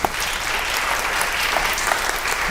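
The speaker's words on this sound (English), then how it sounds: "So I want to give y'all a round of applause for that." Audience at a literary festival stage event breaks into sustained applause, a dense, even wash of many hands clapping that fills the room without pause.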